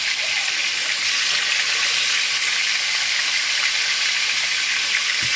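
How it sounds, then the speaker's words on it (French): Cod fillets sizzle and brown in a hot pan, a steady bright hiss of frying fat holding evenly throughout with no talk over it. "Je vais juste faire revenir, question de dorer un tout petit peu."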